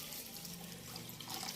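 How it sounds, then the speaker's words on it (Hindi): Water is poured into a pot for cooking Maggi noodles, making a faint, continuous running trickle with no speech over it. "इसमें डालेंगे पानी"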